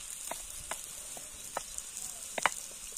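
Onions poured into a hot sac pan over an open fire in a home garden, where chicken sac kavurma is cooking, set off a steady, close hiss of sizzling with scattered sharp crackles and pops.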